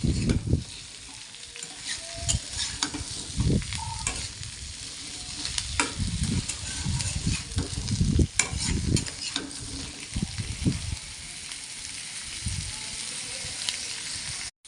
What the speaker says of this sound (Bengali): এগুলো ভালো করে ভেজে নেব পেঁয়াজের সাথে